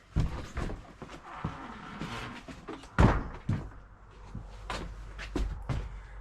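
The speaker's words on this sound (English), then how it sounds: "I gotta open this door." A door opens with a sequence of thuds, knocks and rattles, some sharp and loud, around a 1975 Briggs and Stratton 8 hp engine being worked on. The noises are close and irregular, with no speech.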